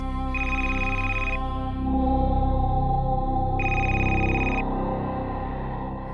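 A mobile phone rings loudly in a family home in a Marathi TV drama, its melodic ringtone playing in two distinct bursts over a steady musical tone, with no talking.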